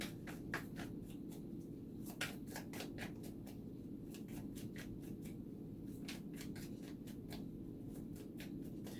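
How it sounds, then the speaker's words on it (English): Tarot cards being shuffled by hand in a quiet room, a run of crisp riffling clicks and flutters coming in irregular bursts over a low steady hum, with no one speaking. "I'm having trouble shuffling for you"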